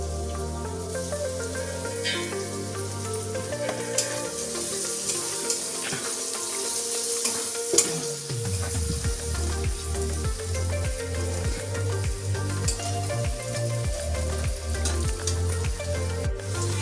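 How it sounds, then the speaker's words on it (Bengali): Onions frying with cumin seeds and dried red chillies in a pan, a continuous close sizzle with repeated rhythmic scraping strokes of stirring through the second half. "পেঁয়াজের সাথেই জিরে আর শুকনো লঙ্কাটাও দিয়ে দেবো।"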